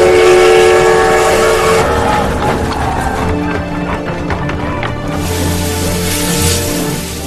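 A military troop train in a war film rumbles loudly and steadily as it departs, with a horn-like whistle mixed into the continuous clatter and no voices.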